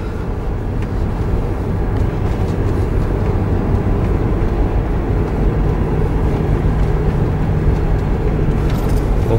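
A Coyote-equipped car cruising on a road, heard from inside as a loud steady engine and tyre drone that holds constant for the whole stretch.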